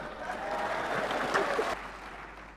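An audience at a leadership talk gives a brief burst of soft, fairly distant applause that holds steady for under two seconds, then drops away quickly.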